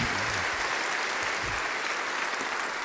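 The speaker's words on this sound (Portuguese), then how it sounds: "Mas eu queria que vocês aplaudissem mais uma vez esses dois aqui" A church congregation applauds two people during a service, a steady, dense clapping that fills the space at full volume with no voices over it.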